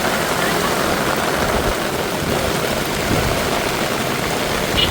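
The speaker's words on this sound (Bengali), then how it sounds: "এই যে তুমুল বৃষ্টি" Heavy November rain pours down in a steady, dense hiss that holds at an even loudness throughout, close and uninterrupted, with no voices.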